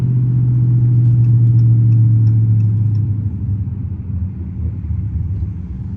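Dodge Charger R/T engine on a highway drive at sunset, a steady low rumbling drone with a strong tone that eases slightly partway through, continuous and fairly loud throughout.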